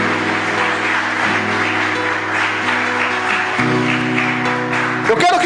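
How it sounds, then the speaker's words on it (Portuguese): Congregation applause during a church service, a continuous loud wash of clapping over steady sustained keyboard chords, swelling slightly near the end. "Dá um aplauso bem forte ao Senhor."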